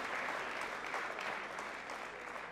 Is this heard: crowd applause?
yes